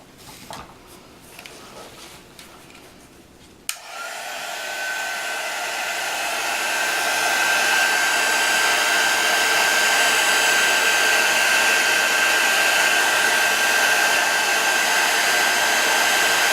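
A hair dryer blowing on a small wooden mini heart album craft, starting after a few seconds of quiet handling and then running as a steady, loud whooshing roar that swells slightly and continues alone.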